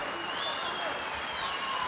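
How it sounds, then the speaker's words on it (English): A crowd at an EAGLES FC mixed martial arts event applauds in a steady, dense wash of clapping and cheering, with a voice faintly under it. "Crowd applauding."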